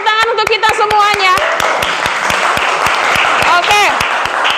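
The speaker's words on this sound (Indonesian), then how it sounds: "kita berikan tepuk tangan untuk kita semuanya" Students in a classroom clap together, rapid close claps layered over cheering voices and chatter, steady and lively throughout.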